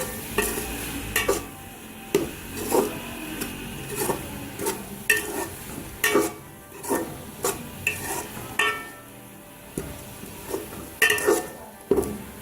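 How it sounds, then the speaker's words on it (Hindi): Fenugreek leaves fried with salt, chili and spices in a pan, stirred with a spoon in repeated scraping, clinking strokes over a continuous soft sizzle, close and without talk. "इसको अच्छी तरीके से मिक्स कर दें तमाम मसालों को"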